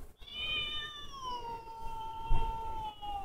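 A cat meow played from a phone app sounds in one long, drawn-out wail that slowly falls in pitch, played alone against a faint background hum.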